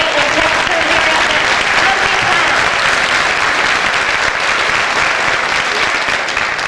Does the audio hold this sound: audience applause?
yes